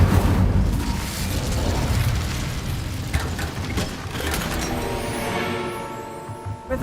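Incendio fire spell cast in Hogwarts Legacy: a continuous roaring, crackling burst of flame with booming low rumble, loud and sustained for several seconds, with small pops and mechanical clicks near the end.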